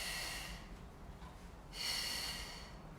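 A person exhales during a Pilates-style leg stretch, producing two close, breathy rushes of air, one at the start and a stronger one about halfway through, with no talking.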